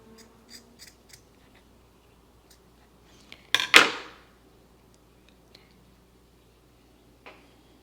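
Scissors make a single sharp, close snip through craft material for a Dollar Tree gnome, with a short rustle after it amid faint handling sounds.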